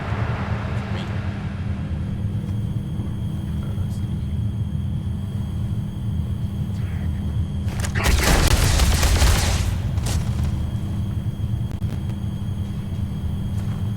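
Caseless shotgun fire in Starfield, a dense burst of blasts lasting about two seconds over a steady low game rumble, with a voice talking.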